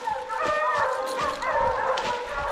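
Hunting hounds bay and yelp at a bear treed in the woods during a hound hunt, several dogs overlapping in steady, fairly close, continuous barking with no talk.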